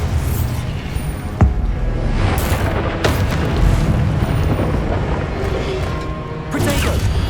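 Spell explosions from the Bombarda curse in the Hogwarts Legacy video game, a few sharp booming hits rising out of a dense, constant wash of loud battle effects and music.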